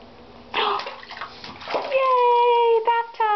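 Water splashes and sloshes in a bathtub as a small boy is bathed, with bursts of splashing early on, then an adult's sing-song voice over the splashes.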